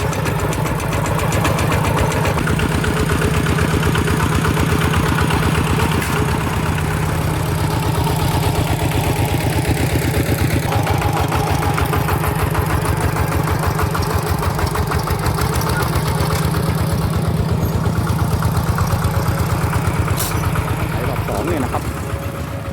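A walking tractor's engine chugs steadily and loudly while ploughing a rice paddy, a continuous rhythmic mechanical drone with no pauses.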